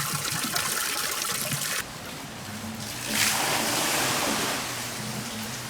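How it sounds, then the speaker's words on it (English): Water sloshing and trickling steadily at a restored water wheel turning in a river at night, a continuous wash with a brief louder surge midway. "Let's try the water wheel in the night."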